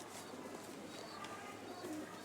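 Domestic pigeons at a loft with young birds coo faintly and continuously in the background, soft and somewhat distant, with no voices present.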